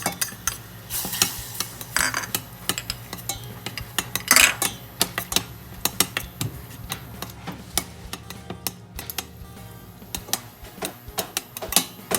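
Roots pounded with pepper stir-fried in a pan for a Vietnamese salted crab in coconut milk dish, with repeated clinks and scrapes of a utensil against the pan and a faint sizzle, close and steady with no talk.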